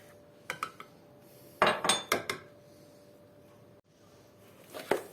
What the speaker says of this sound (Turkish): bir su bardağı irmikle de şöyle karıştırıyorum